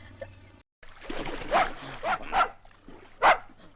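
A dog barks a few times at close range, short sharp yelps bursting out over a muffled, busy background with no clear speech.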